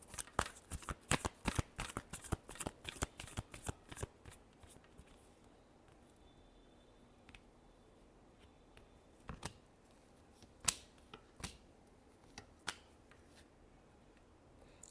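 Tarot deck being shuffled by hand, a quick run of crisp riffling card flicks at first, then quieter, sparser taps and flicks, soft and close against near silence.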